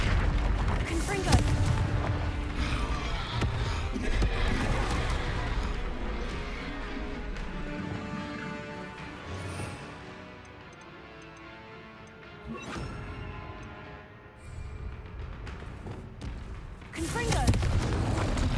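Confringo fire spells blast one after another in the video game Hogwarts Legacy. The booming impacts and crackling explosions come loud and dense, with a brief lull near the middle. A voice shouts spell names over the combat noise.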